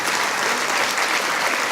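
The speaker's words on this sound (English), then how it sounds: "Please give them a big round of applause." An audience gives a round of applause for students and band members at a civic leaders' event, dense steady clapping throughout.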